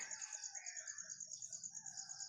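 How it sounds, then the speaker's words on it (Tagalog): Birds call in the background over a constant high-pitched insect whine, with soft low rumbling underneath. "maingay yung mga ibon."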